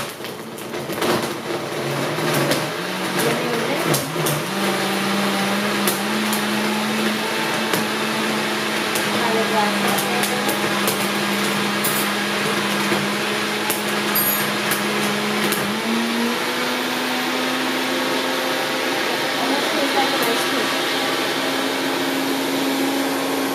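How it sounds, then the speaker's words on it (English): A blender whirs steadily while blending a vegan chocolate protein smoothie in a home kitchen, a loud continuous motor drone that shifts pitch partway through, with brief talk over it near the start. "So this is all going into the blender. It's going to be a little noisy, so bear with us."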